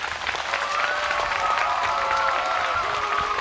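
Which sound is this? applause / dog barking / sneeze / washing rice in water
applause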